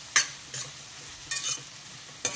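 Onions frying with salt in a pan, stirred in several separate scrapes and bursts over a quiet sizzle, close up and with no voices.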